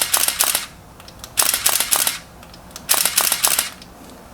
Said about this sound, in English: There's continuous bracket, of course, which means it shoots all of them when you push the shutter button down once.